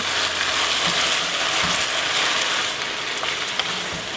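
Sliced onions sizzle steadily in a hot pan for Cambodian beef lok lak, a continuous close frying hiss with faint scattered crackles throughout.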